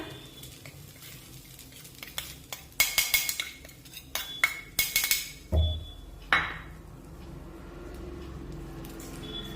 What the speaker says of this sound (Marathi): मंदाचेवर हे ओलं खोबरं परतून घेऊया